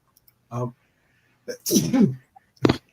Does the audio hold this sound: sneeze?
yes